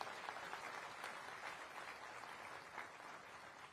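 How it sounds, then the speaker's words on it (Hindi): Applause from an audience at a regional industry conclave in Gwalior, a dense continuous patter heard faintly and from a distance with no clear voices. "तालियों की गड़गड़ाहट से हम धन्यवाद अर्पित करें"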